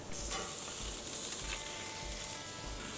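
A half-pound 80/20 ground chuck burger patty, brushed with avocado oil, sizzles on the grates of an LSG charcoal grill, a steady close crackling hiss that runs without a break.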